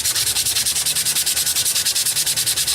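Rust is scrubbed off a metal tape measure in quick, even back-and-forth strokes, a rhythmic, close, raspy scratching that repeats about eight times a second with no voices.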